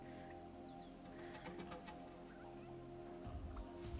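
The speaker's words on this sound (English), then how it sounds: "Oh, look at that flock of birds." A flock of birds calls with faint chirps in an outdoor scene in the video game Horizon Zero Dawn, set over a steady, loud, droning game soundscape.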